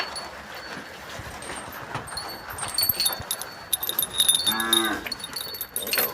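A cow tied outside a farmhouse shed lets out one drawn-out moo near the middle, loud and close, over a steady outdoor background with faint bell-like jingles.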